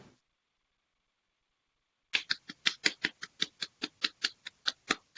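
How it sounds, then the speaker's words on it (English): One person clapping alone after a short silence, about sixteen sharp, close claps in a steady, slightly uneven rhythm, with no other voices. "This is the sound of one person clapping"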